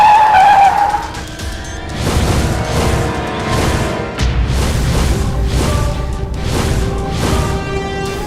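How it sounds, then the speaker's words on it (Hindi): A car pulls away and drives off, its engine rumbling steadily and loudly over a music-like tonal bed, with a brief squeal of tires near the start and no voices. "उसकी तो गाड़ी भी आ गई, जा रही है।"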